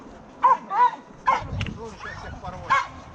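Bull terrier barking at a night race in Romashkovo, several short sharp barks in an uneven rhythm, close and loud, with people talking in the background.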